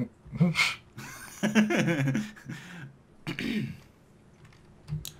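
A throaty cough or throat-clearing sound, followed by a short vocal burst and a brief second cough-like noise near the end.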